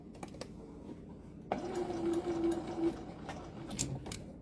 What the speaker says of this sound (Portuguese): Começa a costurar num outro retalhinho de tecido.